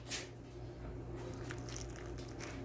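Cheddar biscuit dough being mixed by hand, with soft, continuous squishing and sticky patting sounds, close and quiet, with no talking.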